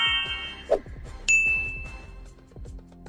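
A notification bell sound effect with a bright ding ringing out and decaying over a few seconds, mixed with other soft chimes and clicks, no talk.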